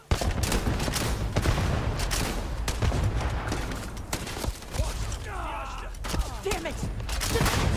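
Rapid bursts of gunfire crackle in the space shooter Starfield, sharp repeated shots and booms stacked into a loud fusillade, with a voice speaking briefly partway through.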